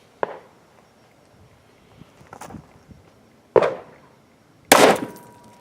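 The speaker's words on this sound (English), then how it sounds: "now we're going to try some federal triple-aught buck" A Smith & Wesson Governor revolver fires Federal triple-aught buckshot at an outdoor range at 7 yards, giving two loud, sharp bangs with ringing decay after a faint earlier knock.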